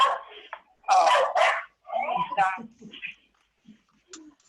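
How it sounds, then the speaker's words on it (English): A dog barks in several close, sharp bursts, mixed in with people talking indoors during an evening church service. "It's Jan's dog"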